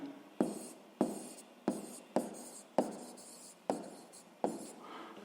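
A pen scratches across paper during a sixth-grade maths exercise, with seven distinct strokes in a steady rhythm, each a sharp onset that fades quickly. It is close and fairly quiet, with no voices.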